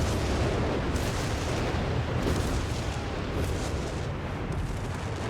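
Whiz-bang artillery barrage in Company of Heroes 3, dense continuous rumbling booms and blasts forming a loud, sustained roar of shelling with no clear gaps.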